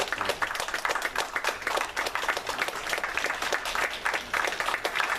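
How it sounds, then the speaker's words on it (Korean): A church congregation gives a long burst of applause during a Sunday worship service honoring a retiring elder, dense overlapping claps forming a steady, full roar that carries on without a break. "큰 박수로 격려해 주시기 바랍니다"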